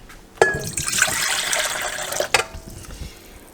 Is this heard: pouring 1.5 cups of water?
yes